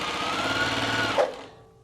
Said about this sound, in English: I'm going to take this straight over to the sewing machine, and this is just a quick 1/4-inch stitch, real fast